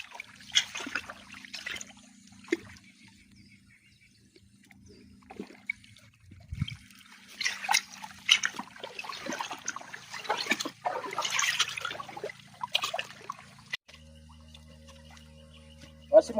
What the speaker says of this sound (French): Vous voyez l'eau en train de remplir